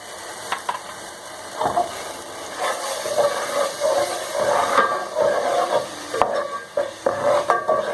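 Two tablespoons of ginger garlic paste fry in hot oil for a chicken and potato curry, a steady close sizzle broken by scraping, stirring strokes, with no talk.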